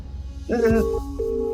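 A telephone being dialed produces two steady electronic tones, each lasting under half a second with a short gap between, after a brief vocal sound.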